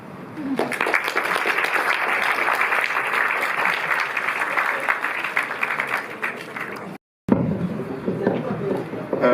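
Cinema masterclass audience applauding loudly and continuously for several seconds, dense crowd clapping up close, briefly cut off and then resuming.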